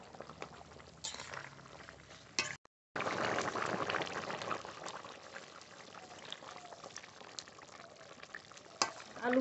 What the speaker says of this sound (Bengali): ঝোল খুব ভালোভাবে ফুটে গেছে, আলুও প্রায় সিদ্ধ হয়ে গেছে